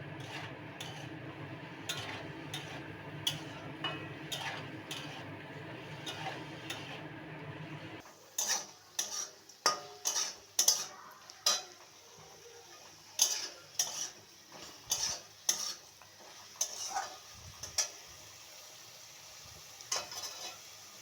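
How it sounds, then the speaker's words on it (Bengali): Small fish curry stirred and sautéed in a pan with salt, a steady sizzle at first, then a series of sharp spatula scrapes and clinks against the pan. "স্বাদ মতো লবণও দিয়ে দিয়েছি, দিয়ে এবার নাড়াচাড়া করে নিয়ে কষিয়ে নেব।"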